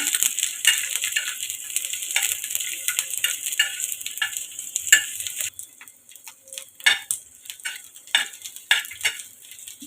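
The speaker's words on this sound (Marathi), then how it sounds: "त्याचा कच्चेपणा जायचं तर थोडं परतून घेऊया" Ginger, garlic, onion and fresh coconut masala sautéed in a pan, with quick scraping and tapping of a spoon over a soft sizzle, close up and irregular, no voices.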